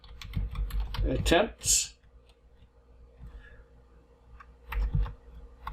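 Rapid clicking of computer keys in bursts, close by, with a brief spoken word and a quieter stretch of scattered keystrokes.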